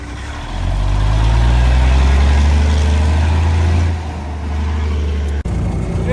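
A 6x6 six-wheel-drive vehicle, revived after ten years unused, runs loud and close with a low rumbling engine drone that rises, dips briefly near the end, then settles back.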